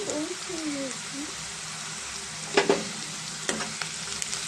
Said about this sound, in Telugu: ఉల్లిపాయలు కొంచెం మగ్గినాయి కదండి దీంట్లో స్పూన్ అల్లం వెల్లుల్లి పేస్ట్ వేసేద్దాం